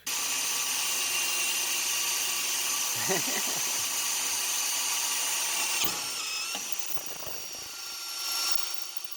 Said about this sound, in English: Step one, drill small hole. Drill a small hole first.